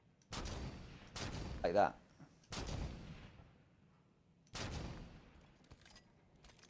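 Halo 5 gunfire on the Eden map: four separate loud reverberant shots or short bursts spaced apart, each echoing off, with a brief spoken remark in between.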